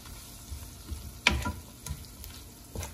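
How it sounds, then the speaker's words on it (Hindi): Tomatoes stirred into a sizzling tikka karahi, a steady soft frying hiss with scattered clinks and scrapes of a spoon against the pan, close and fairly quiet. "इस पॉइंट पे हम ऐड करते हैं अपने टमाटर ऐड करके अच्छी तरह से मिक्स कर देते हैं।"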